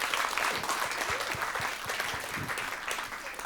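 A conference audience at a film-industry event applauds, a dense, steady wash of clapping with individual sharp claps standing out, fairly distant and sustained throughout.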